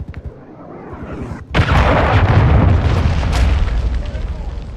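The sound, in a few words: cruise missile explosion in a video game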